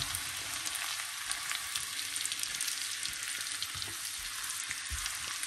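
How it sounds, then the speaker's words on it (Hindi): Garlic and chili fry in a pan for saag, crackling and sizzling in oil with a steady hiss and scattered pops, moderately close and alone without any talking. "और यहाँ पे जाएगा लहसुन और मिर्च, थोड़ा देर, क्योंकि ऋषि नहीं खाएगा ना"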